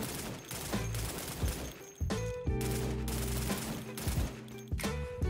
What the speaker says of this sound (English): My only feedback is really just the sound on his weapons.